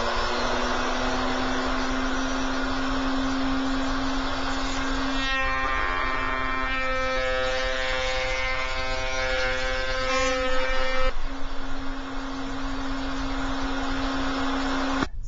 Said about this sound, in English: I install a 45-degree chamfer bit into the router, and I'll chamfer both edges of the back side of the crown molding.